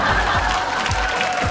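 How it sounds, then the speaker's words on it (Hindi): A TV show audience applauds after a performance on Bharat ki Shaan: dense, loud, continuous clapping from a crowd under a steady sustained music tone, lasting only a moment. "जोरदार तालियों से तालियां बजाते रहिए 2-4 घंटा तक।"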